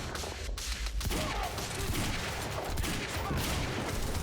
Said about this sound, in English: this heavy pistol's throwing me off